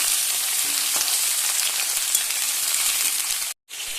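Bottle gourd and potato pieces fry in a pan and are stirred now and then, giving a steady, close, loud sizzle with a brief dropout near the end.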